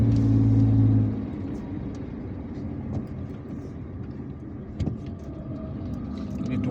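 A car drives along an Algiers expressway, giving a steady close rumble of engine and tyre roar inside the cabin, with a louder low hum at first that eases into constant road noise.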